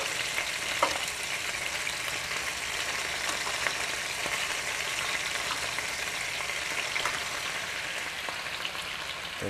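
Chicken with rosemary sizzling steadily in a hot pan as vinegar cooks off over high heat, a dense, even crackle with small pops throughout and no talking.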